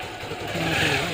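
A motorbike engine runs close by with a steady, rough hum that rises slightly in intensity partway through the short stretch.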